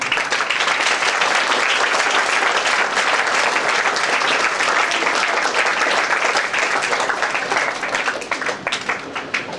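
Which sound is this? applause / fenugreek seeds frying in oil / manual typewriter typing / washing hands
applause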